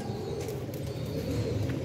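Low, steady cooing of pigeons fills the background, a continuous throaty murmur from several birds with no clear breaks.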